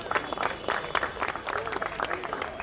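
Audience applause at a seminar on railway job vacancies, with dense, irregular clapping filling the hall at moderate volume and some voices mixed in.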